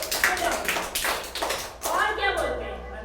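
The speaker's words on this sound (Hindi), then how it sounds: "तालियां बजाइए इसके लिए।" Classroom of children claps for a classmate in a few uneven bursts of close, rough clapping, with a teacher's voice speaking over it.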